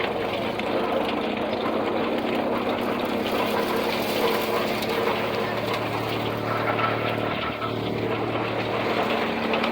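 A belt-driven Blizzard silage chopper runs at speed, giving a loud, continuous mechanical roar and whir that stays nearly constant.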